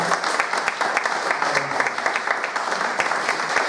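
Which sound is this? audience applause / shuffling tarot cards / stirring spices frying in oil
audience applause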